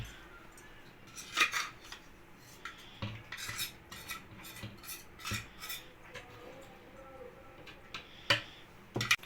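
A knife chops ingredients for a chocolate layer cake into pieces, with scattered close knocks and taps on a cutting surface in an irregular rhythm against a quiet kitchen background.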